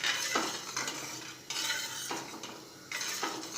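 A spoon scrapes and stirs thick rajma gravy thickened with gram flour in a pan, soft repeated scraping strokes in a steady rhythm with faint sizzling beneath, close and fairly quiet.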